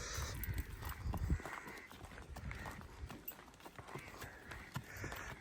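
A horse shifts and stamps its hooves on hard ground while being bathed outdoors by a canal, with scattered thuds and splashing, water and movement noise at moderate distance, and no talking.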